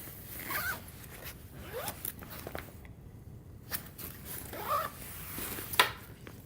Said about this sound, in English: you just have another zipper, open that up